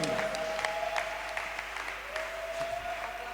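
A church congregation applauding in praise of Jesus, sustained clapping from a crowd of many hands, with a faint sustained tone running under it.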